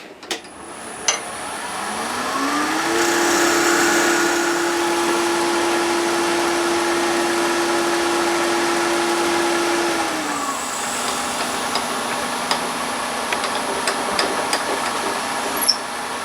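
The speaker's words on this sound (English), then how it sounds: "the last thing we need to do with the lathe is bore and then form a pull string knob" A wood lathe with a Jacob's chuck bores into a piece of Purple Heart timber: a loud, steady motor whine whose pitch rises, holds for about seven seconds, then drops, with faint ticks and knocks throughout.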